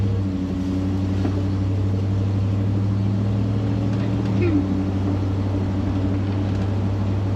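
A Range Rover Classic overland rig drives along, its engine and road noise forming a steady, loud low drone heard from inside the cabin, with voices murmuring underneath.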